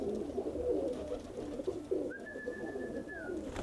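Pigeons in a backyard loft coo softly over a low, noisy outdoor background. Murmuring calls are followed by one longer, steady tone near the end.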